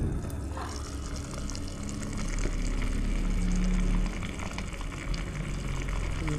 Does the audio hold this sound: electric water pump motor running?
yes